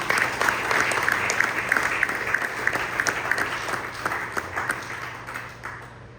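A church congregation applauds during a service, sustained, evenly dense clapping from many hands that carries on for several seconds at a steady, fairly loud level with a low hum underneath.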